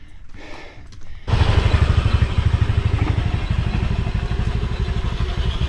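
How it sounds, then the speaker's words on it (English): A motorbike engine on a steep hill road near a Bali beach starts up close after a quiet moment, then chugs loudly and steadily with a rattly idle-to-rev drone. "he's got a motorbike."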